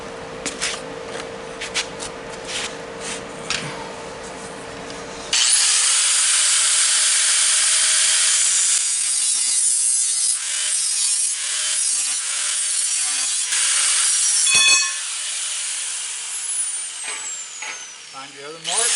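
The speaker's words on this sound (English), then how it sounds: "I'm going to cut this using my cutoff grinder" A cutoff grinder spins up and bites into a metal rod holder piece, giving a loud, sustained harsh whine and grinding rasp after a quieter stretch, with a voice speaking.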